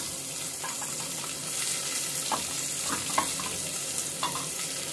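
Onions frying in oil with ginger and garlic being added, a steady broadband sizzle throughout with occasional scraping stirs of a spoon in the pan, close and fairly loud, no talking.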